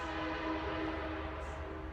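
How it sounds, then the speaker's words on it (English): A train passes at a distance, a sustained broadband rumble with a steady tonal horn-like hum running through it, constant and fairly faint with no voices. "there's the train."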